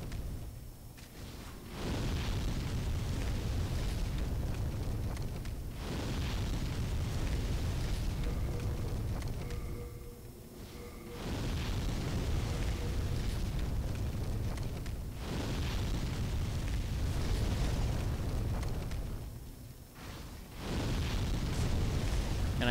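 A sustained roaring blast of fire from an enemy in Demon's Souls, loud, continuous rushing flames that come in long waves with brief lulls between them, no talking.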